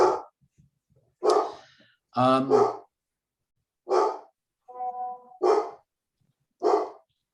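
A dog barks in short, loud bursts, about six separate barks spread evenly with pauses between, plus a brief whine-like tone, heard close and alone with no talking.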